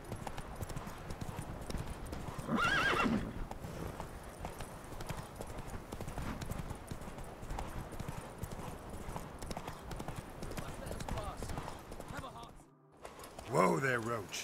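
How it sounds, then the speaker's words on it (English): A horse in The Witcher 3 gallops with continuous drumming hoofbeats and gives loud whinnies near the start and end. Game voices and background noise run underneath. "Whoa there, Roach."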